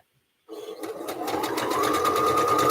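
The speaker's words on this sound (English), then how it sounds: "I'll finish sewing these together." A sewing machine stitches fabric pieces together, starting after a short silence and then running steadily with a rapid, even rhythm of needle strokes that grows slightly louder as it continues.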